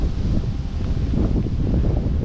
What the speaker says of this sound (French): Désolé pour le vent qui se lève.